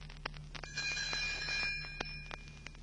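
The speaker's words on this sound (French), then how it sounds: "Elle fera tinter ses petites cloches comme ceci." Tinker Bell's little bells sounding as a page-turn cue, a short bright metallic tinkling with several quick ringing strikes and sustained shimmering tones, fairly faint and alone.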